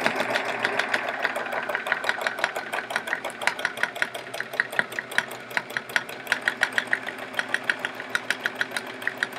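A domestic sewing machine runs fast and steadily during free motion quilting on a chevron quilt, its rapid needle clatter close and even, with a tight repeating rhythm and no voices.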